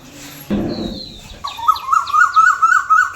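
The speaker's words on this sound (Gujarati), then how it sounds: "જો કોયલ આમ બોલે" A koel calls in a village setting, a short run of rising, ringing notes repeated in quick succession, clear and fairly close, following a brief rustle.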